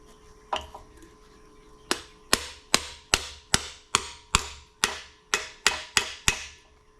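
A bushing driver is struck with a hammer to seat a cam plug in a Ford FE 445 engine: one lone tap, then about a dozen sharp metallic blows in a steady, quickening rhythm, each ringing briefly.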